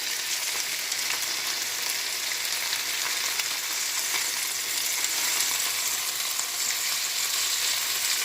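Chicken pieces browning in a sauté pan, a loud continuous crackling sizzle of hot fat that stays even and close throughout with no voices.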